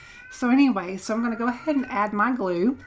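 A pet cat meows in the background of a papercraft session, several short meows mixed in with close, continuous speech that runs throughout.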